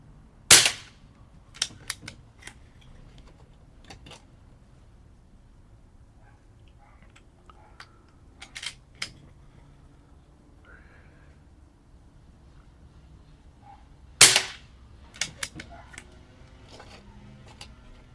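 Two crisp, loud cracks from an Umarex Zelos .25 air rifle fitted with a moderator, spaced far apart, with faint clicks and handling noises of the gun in between on a quiet background.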